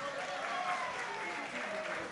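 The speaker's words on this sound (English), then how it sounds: "how about a big round of applause for Dean Mora and his orchestra?" A crowd at the Cicada Club applauds Dean Mora and his orchestra with a steady, dense wash of clapping that holds at an even level for the whole stretch.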